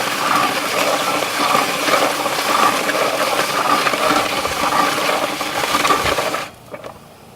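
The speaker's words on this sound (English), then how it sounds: "you're going to crank it for a little bit to let that ice get ran down" An old-fashioned hand-crank ice cream freezer packed with ice and salt is cranked continuously, a loud steady grinding churn with gritty ice crunching that stops abruptly near the end.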